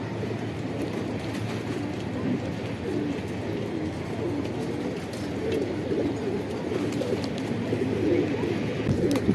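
Red Checker and Silver Bagha pigeons coo in a low, continuous murmur from several birds close by, layered over a steady rumbling background with no talking.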